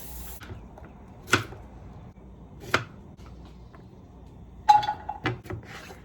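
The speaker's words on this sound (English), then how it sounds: "I'm just gonna cut this up and cook it" A knife chops zucchini on a cutting board in a home kitchen, with a few separate sharp cuts spaced over several seconds and a quick cluster of chops near the end, and no talk.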